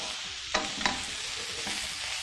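Minced meat and onions fry in a pan, a close, steady sizzle broken by a couple of sharp scraping stirs from a spoon, with no voices.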